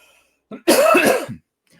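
A single loud, harsh cough with a brief throat-clearing lead-in, close up, followed by quiet.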